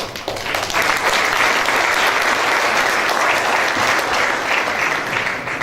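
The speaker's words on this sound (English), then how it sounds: "These are encouragement claps for me" Sustained, dense applause from the audience at a business forum panel discussion, even clapping holding steady for several seconds with no one speaking over it.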